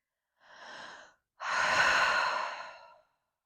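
Slow, deep breathing during a yoga stretch: a short soft inhale, then a longer, louder exhale like a sigh, close and alone.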